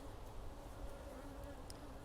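Honeybees buzz steadily at the hive, a dense, continuous hum of many insects close by with no talking.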